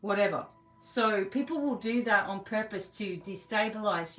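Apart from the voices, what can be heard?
None of the usual background noises is heard.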